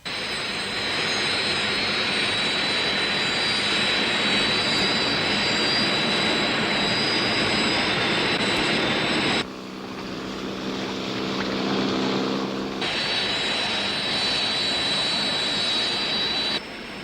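Airplane jet engines roar in a steady, loud, continuous drone that cuts out briefly for a quieter interior hum before resuming, in a 1964 French television series.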